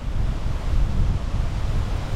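Strong storm wind gusting by the Guadiana river in Spain, a loud, continuous roar of wind buffeting the microphone with no voices.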